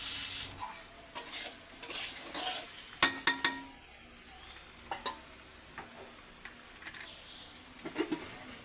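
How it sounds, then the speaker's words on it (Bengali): Rice, lentils and green chili paste sautéed in a pan for khichuri, with a steady low sizzle broken by repeated scraping stirs and a few sharp clinks of the spoon against the pan. "এগুলো দিয়ে এখন সুন্দর করে একটু কষিয়ে তারপর হচ্ছে জল দিয়ে দেবো।"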